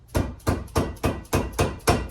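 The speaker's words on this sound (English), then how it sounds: "I do have this rubber dead blow mallet" Rubber dead blow mallet tapping a front wheel bearing on a third-generation Toyota 4Runner, seven evenly spaced dull thuds about a quarter second apart, close and clear with no talk.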